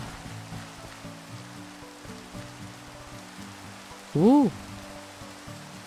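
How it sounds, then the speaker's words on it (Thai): Steady rain hisses and patters in a Minecraft game world, a soft continuous wash under repeating low game tones, with a brief exclaiming voice near the end. "ฝนตกแล้วด้วย"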